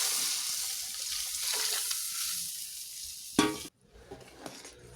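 Dal is poured into a sizzling tempering of tomato and green chili, with a steady hiss of frying, a sharp burst as the liquid hits the hot pan, then a quieter simmer, all close and with no voices.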